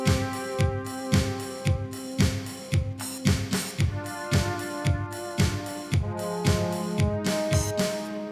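PPG synthesizer string patch played back on its own as a verse part, with steady rhythmic chords pulsing over a repeating beat, loud and continuous with no talking.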